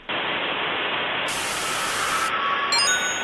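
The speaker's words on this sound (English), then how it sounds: "Static heard, but no actual static displayed." Harsh static crackles from the Sonic.EXE animation, starting abruptly and holding as a loud, unbroken hiss that shifts tone partway through, with faint whining tones near the end.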